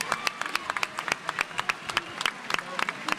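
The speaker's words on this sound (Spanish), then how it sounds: "Un aplauso, por favor, para ellos." A crowd at a town festival's trophy and opening-proclamation event claps in scattered, sharp individual claps, close and irregular, with a murmur of voices underneath.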